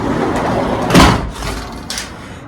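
A door that had been left open is closed, a sharp thud near the middle followed by a softer knock, against a low background hiss with no talking.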